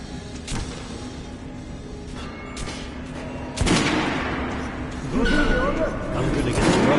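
Squad gunfire in Metro Last Light Redux, bursts of shots cracking out in the early seconds, then a louder rattling volley and continued firing toward the end, with a voice speaking under it.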